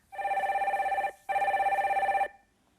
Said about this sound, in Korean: 전화 빨리 받아볼게요.